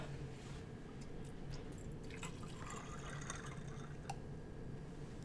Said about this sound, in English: we're gonna pour lemonade to fill half of our cup.